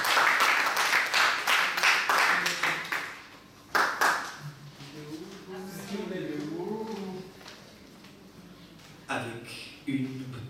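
Audience clapping at a poetry event as a man is called up, a brief burst of applause at the start, then someone talks over quieter room sound, with short spatters of claps later.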